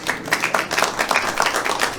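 Sparse clapping from a small audience at a Valentine's comedy show, irregular individual claps rather than full applause, moderately near.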